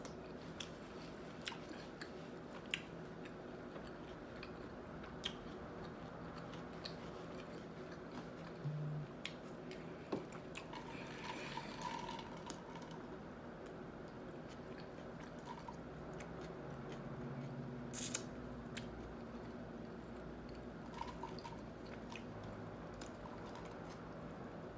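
Someone chews and bites into homemade veggie wraps, giving soft, intermittent crunching and squishy mouth sounds that are faint and close over a quiet room background.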